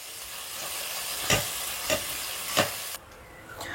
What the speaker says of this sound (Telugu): ఇంకొద్దిగా ఫ్రై అవ్వనిద్దాం.